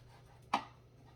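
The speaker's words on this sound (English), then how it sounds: "I cut it in squares, so it's gonna be easier to chop." A single sharp knife cut through onion on a cutting board: one brief, close, crisp chop over quiet room tone.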